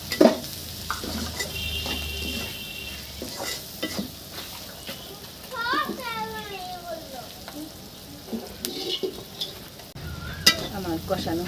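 Spices with turmeric and coriander powder sautéing in a pan for a jackfruit and prawn curry, a soft crackling sizzle broken by intermittent scraping stirs and a few clinks, with occasional background sounds.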